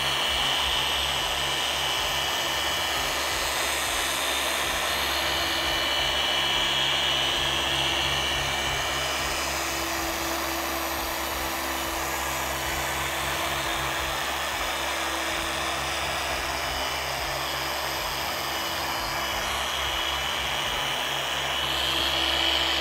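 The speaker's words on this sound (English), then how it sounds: "we can just keep buffing and buffing and buffing and not have this dry out on us" A machine polisher buffs car paint with Meguiar's Pro Speed Polish M200, running just under speed 4 with a steady, close whirring drone that holds level throughout without pauses.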